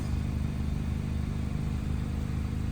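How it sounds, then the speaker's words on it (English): A 2016 Mazda MX-5 Miata GT sports car engine idles steadily with a low, even exhaust rumble, close by and continuous. "And here's your exhaust at idle."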